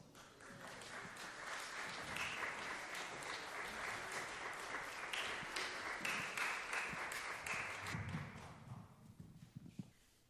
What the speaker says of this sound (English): Please give a Festival of the Sound round of applause for English pianist Martin Roscoe